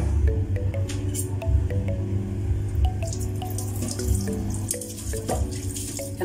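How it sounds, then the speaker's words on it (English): Hot water pours into a container for a homemade drink made with sugar, giving a steady splashing, trickling flow with small drips and clinks, close and fairly loud. "So we have to pour in hot water."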